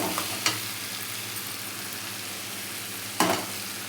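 Onion, garlic and tomato frying in oil with asafoetida hiss steadily in a pan, with a couple of brief clanks and scrapes from stirring standing out against the constant sizzle.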